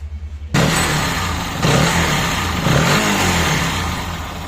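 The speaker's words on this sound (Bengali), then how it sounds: "বেনেলির যে সাউন্ড সেই সাউন্ডেই আছে" A Benelli 165S motorcycle with about 40,000 km on it starts and runs its engine close by, a steady mid-pitched drone that swells in two or three rising surges as the throttle is blipped.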